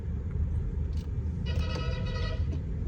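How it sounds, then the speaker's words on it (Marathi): A vehicle horn sounds briefly over steady road rumble and traffic noise heard from inside a Mahindra BE 6 car on a highway, with a short tonal honk standing out midway. "यार हॉर्न काय वाजवतोय म्हणा."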